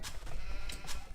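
A few short sheep bleats from a strategy video game rise over a steady low rumble, sounding faint and brief with no talking.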